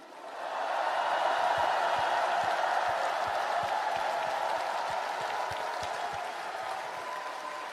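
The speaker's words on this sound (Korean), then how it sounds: "우리 두 분 후보님께 뜨거운 격려의 박수를 부탁드립니다" Sustained applause from a crowd at a Democratic Party rally in Korea, greeting two party candidates; dense steady clapping that stays loud throughout and eases slightly toward the end, with faint crowd murmur.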